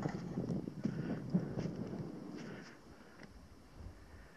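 Wind blowing over steep sand dunes in the Wahiba Sands desert of Oman, a steady low rushing that buffets the microphone and eases slightly in the second half, with no voices.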